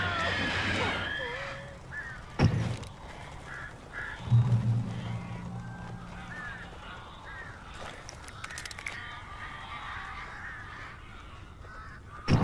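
In the Alan Wake video game, birds caw in harsh, scattered bursts, some loud and close and others farther off, over a dim ambient background with occasional thumps.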